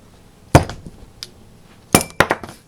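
Sharp metallic strikes on a pin in the slide of an OMC Backup .380 pistol being loosened: one loud hit, a fainter tap, then a close pair of sharp knocks near the end, each with a bright ringing clink.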